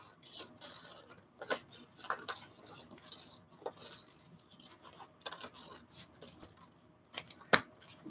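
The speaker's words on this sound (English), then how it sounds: "Oh, I'll just randomly cut." Scissors snip through paper in a series of short, irregular cuts, close and crisp in a quiet indoor space, with a sharper clack near the end.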